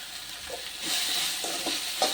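Raw mango pieces sautéing slowly in a pan for mango rice, a quiet steady sizzle with a few soft stirring taps, close and with no talk.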